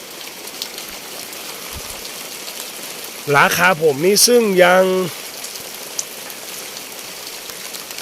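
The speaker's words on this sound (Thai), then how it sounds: "ฝนก็ตกลงมานะครับเพื่อนๆครับ" Rain falling at night on a farm in the Thai countryside, a steady soft hiss throughout, with someone speaking briefly over it midway.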